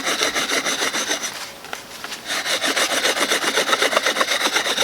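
Bow drill spindle spinning in a carved divot on a pallet-wood board gives a steady, rhythmic back-and-forth rubbing and grinding, close and fairly loud, with a brief slowdown partway before the strokes resume.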